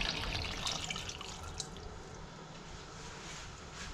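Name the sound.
water being poured over sardine mixture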